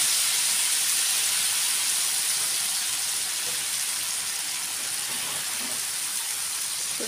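Rava dosa batter poured in a round onto a hot pan over high flame, producing a loud, steady hiss of sizzling that continues throughout without a break.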